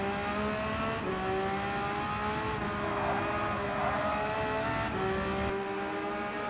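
Race car engines in traffic during a Gran Turismo 7 race, a continuous loud high-revving whine with shifting pitch from gear changes and nearby cars, unbroken throughout.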